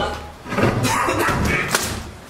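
A kitchen door falls down with a heavy slam and thud, a sharp impact followed by a second knock, loud and close, with faint voices in the background.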